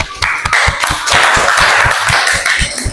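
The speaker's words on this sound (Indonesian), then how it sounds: "Oke, berikan tepuk tangan boleh." An audience claps at a class performance exam, a loud burst of rhythmic, fairly evenly spaced handclaps that stays steady for a few seconds, with no voices.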